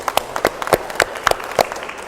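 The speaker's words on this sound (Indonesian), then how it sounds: "Tepuk tangan semuanya." Scattered applause from a small group during a classroom teaching session, a few distinct claps spaced irregularly over two seconds, moderately close and fairly light with no talk over it.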